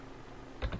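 Two quick, close keystrokes on a computer keyboard while a command is typed into a Linux terminal, sharp clicks over a low background hum.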